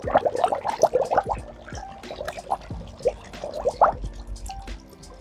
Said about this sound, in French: on la pose dans l'évier 5 minutes, histoire qu'elle égoutte bien tout le surplus d'eau qu'elle a dans le pot